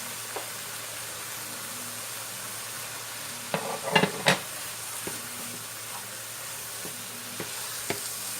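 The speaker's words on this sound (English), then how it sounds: "Stir it all up." Paprika, poultry seasoning, oregano, cumin and turmeric are stirred in a pot for vegan jackfruit pasteles, with a brief cluster of scraping stirs against a soft, steady background hiss and a few faint clinks.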